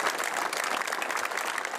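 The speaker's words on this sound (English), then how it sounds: "They broke into both tears and applause as the hearse passed." Football fans in Scotland applaud as a hearse passes, a steady, dense wash of clapping from a sizeable crowd, sustained and fairly near throughout without pause.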